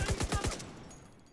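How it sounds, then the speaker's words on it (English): A quick burst of about five gunshots fired at the player in a video game, sharp and rhythmic, fading into a low rumbling tail. "Oh, bullets coming my way."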